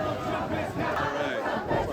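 A protest crowd at a No Kings march out in the street as rain sets in, a dense, continuous roar of many voices with shouting and chanting, loud and steady for the whole stretch without letup.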